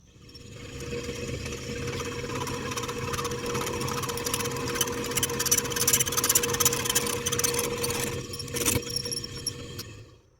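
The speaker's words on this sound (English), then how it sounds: "So let's go ahead, let's drill it." A steady mechanical whine of a drill boring out a hole in a part of a Wisconsin AEN engine from a 1955 Wheel Horse Senior garden tractor, with rattling and scraping, close by and continuous for several seconds.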